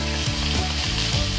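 Onion and ginger paste frying in a pan, a steady close sizzle filling the short stretch with a few soft stirring shifts.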